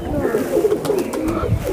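A Lakha breed high flyer pigeon coos in low, rolling phrases, close and steady throughout, with faint background noise.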